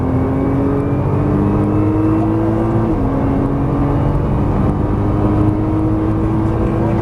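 A Nissan GT-R accelerating out of a corner on track, its engine droning loudly and steadily with a rising tone, a brief dip as the gear shifts, then climbing again under constant road and wind noise.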